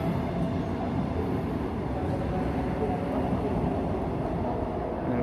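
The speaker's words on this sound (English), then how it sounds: "And right on cue, another train is leaving" A train pulls out of Kiyevsky railway station with a continuous, rumbling roll of wheels and carriages, steady and fairly close, a dense even clatter filling the whole stretch.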